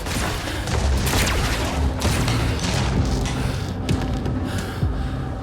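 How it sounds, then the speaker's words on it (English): Rockets and gunfire blasting in the action game Quantum Break, a dense, loud barrage of booms and bursts running throughout with no letup. "they shoot rockets!"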